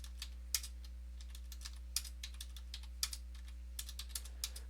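Data being typed on a computer keyboard in scattered, irregular bursts of sharp, close keystrokes over a low steady hum, with no voices.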